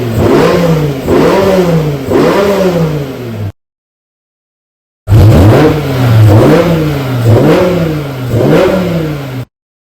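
A modified V10 engine revs hard in two bursts separated by a short silence, each a series of rising and falling throttle blips with a loud, raspy exhaust note.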